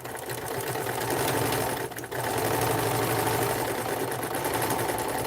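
A 1943 Montgomery Ward sewing machine stitches steadily, a continuous rapid mechanical chatter heard close up with one brief slowdown midway.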